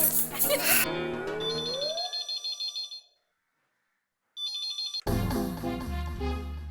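A phone ringtone plays in a Hindi TV comedy home scene, a loud electronic melodic ring repeating in bursts, with music before it, a short silent gap, then more ringing and music.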